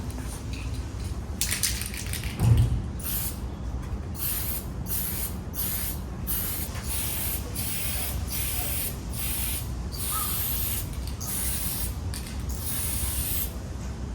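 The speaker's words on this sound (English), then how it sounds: "So if I'm spray painting here, it doesn't cut off there." An aerosol can sprays paint in long hissing bursts separated by short pauses onto an RC kei truck body, with a brief rattle or clunk near the start; close and steady.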